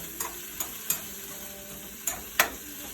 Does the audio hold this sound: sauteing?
yes